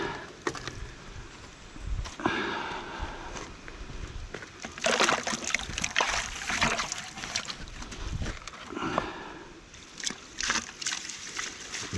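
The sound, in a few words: water washing down Oz Wash Deluxe high banker tray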